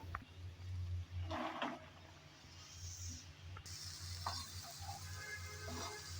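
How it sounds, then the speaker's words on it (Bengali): Ridge gourd being stirred into fried potatoes, onion and garlic in a pan, with steady sizzling from the hot oil and a few scraping stirs of a spatula, close by with no talking. "দন্দুল দিয়ে আলুর সাথে ভালোভাবে নেড়েচেড়ে মিশিয়ে নেব।"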